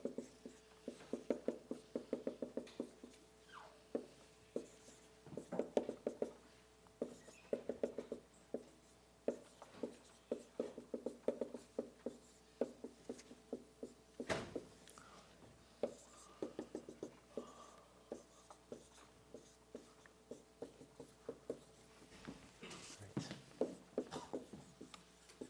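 Chalk or pen writing during a lecture on expectation maximization, quiet intermittent scratching strokes in bursts with short pauses and occasional taps, faint and close.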